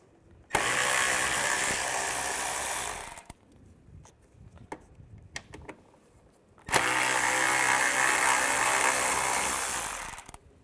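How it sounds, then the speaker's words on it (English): A socket wrench fitted with a T20 socket backs screws out on a 2007-2013 Mini Cooper during parking light replacement, giving two loud, close bursts of rapid ratchet clicking separated by a quieter pause with light handling noise. "We're going to take these two screws out. Use a T20 socket."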